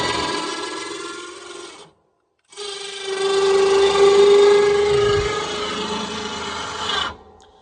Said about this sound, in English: So you can kind of hear the winch.